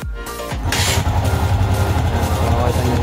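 A motorcycle is kick-started after a spark plug change from NGK to Hella and catches at once. It settles into a loud, steady, close-up idle with no voices.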